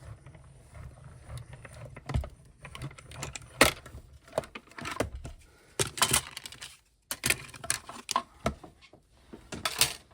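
A hand-cranked die cutting machine feeds paper and die between cutting plates, making irregular clicking, ratcheting bursts with short pauses between turns.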